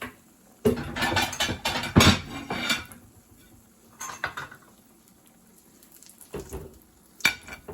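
A single scrambled egg goes into a pan to fry amid clattering utensils and pan scrapes, with bursts of clinking and soft sizzling separated by quiet gaps, close by and without talk.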